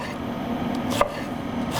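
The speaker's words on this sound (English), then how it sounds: "I'm just going to chop up the onion, throw that in there." An onion is chopped with a knife in a home kitchen, giving soft steady knife work under a low background hum, with two sharper thuds of the blade against the board.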